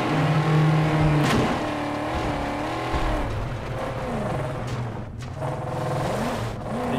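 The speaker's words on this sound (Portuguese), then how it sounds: "Este carro esquece, é um bocado descontrolado" A car engine drives and revs through gear changes in the Mad Max video game, loud and close, its pitch rising and falling over several seconds with no talk over it.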